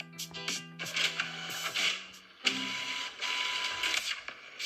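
An inkjet-style home printer runs a print job, giving a busy mechanical whir with rhythmic feed clicks and a rising carriage tone, loud and close with no talk over it.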